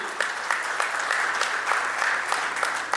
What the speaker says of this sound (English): So big round of applause for Umesh ji.